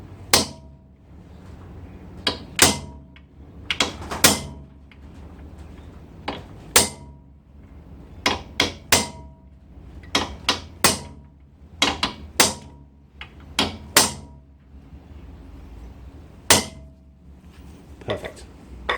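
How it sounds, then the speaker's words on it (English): Hammer striking a metal punch to knock down the locking tab on a rear drum brake nut, a series of sharp, bright metallic taps in irregular clusters, close and loud, with quiet pauses between. "we're going to punch on our hammer"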